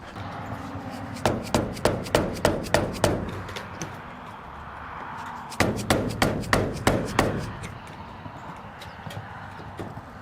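Two bursts of rapid metallic hammer blows on a Pontiac's car bodywork, about eight strikes each with a pause between, close and loud, no talking.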